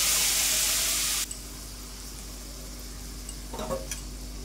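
Ground spice paste sizzles in hot oil with black cumin and turmeric in a wok, a loud hiss at first that settles into steady frying, with a few scrapes of stirring near the end.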